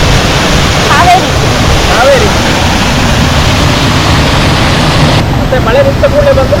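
Hogenakkal waterfall roars as a loud, steady broadband rush that fills the whole stretch, with a few faint voices briefly heard over the torrent.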